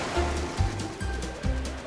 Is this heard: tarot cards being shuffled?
no